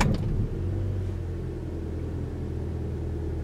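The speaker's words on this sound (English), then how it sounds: "if I start the car up" An Audi/VW group car engine turns over and settles into a low, steady idle rumble, close by and fairly quiet, with no talking.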